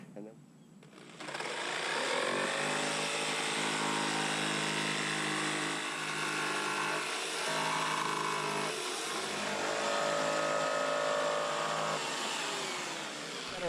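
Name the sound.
cutting 4-inch PVC drainage pipe in half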